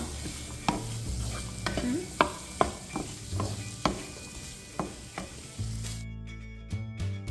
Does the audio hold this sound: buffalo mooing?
no